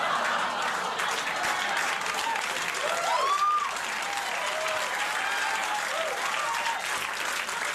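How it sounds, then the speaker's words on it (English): A late-night talk show studio audience applauds a joke, a full sustained wash of clapping with a few brief whoops or cheers rising through it. "I love that they applauded a dick joke"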